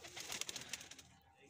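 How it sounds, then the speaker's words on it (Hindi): Soft pigeon coos repeat in a quick series at a village farmstead, then fade, with a faint outdoor hiss underneath. "ये इधर है कबूतर इन्होंने रखे हुए"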